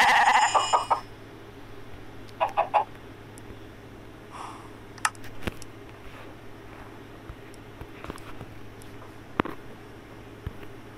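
Sheep bleat in a video game zoo, a cluster of short calls at the start and a few more scattered bleats and snorts later, over quiet game ambience with no talking.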